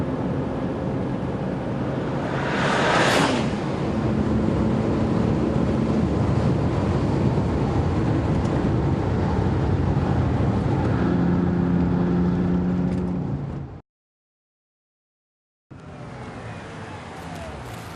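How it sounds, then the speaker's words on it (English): A Bentley Continental Supersports is driven hard around a track, with sustained engine and road roar heavily buffeted by wind noise on the microphone and a rising whoosh early on. The sound cuts out briefly near the end, then returns. "go into what I call the mini carousel"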